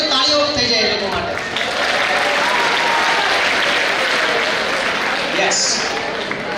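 A large student audience at an education talk breaks into loud, dense applause that builds quickly and holds steady for several seconds, close and filling the room.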